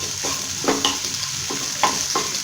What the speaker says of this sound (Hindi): काट के रखा था ये सारा प्याज आपको इसमें डाल देना। तेल गरम हो गया था, राई फूट गई थी।